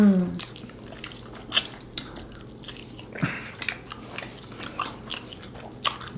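Pizza Hut stuffed Cheez-It pizza being chewed close up, with soft crunches and wet chewing bursts at an uneven rhythm over a quiet room background.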